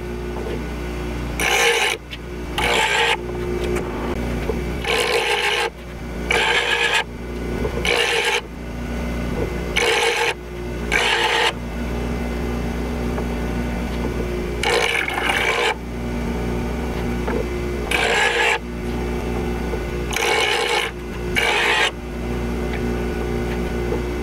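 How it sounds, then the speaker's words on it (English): A bowl gouge is ground on a bench grinding wheel in a jig, as a series of repeated rasping passes of steel against the stone, each a few seconds long, over the steady hum of the grinder motor. "I'm going to keep grinding this until my wings are correct"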